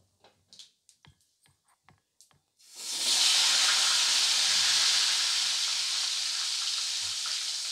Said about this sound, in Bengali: এবারে আলুটাকে হালকা একটু লাল করে ভেজে নেব।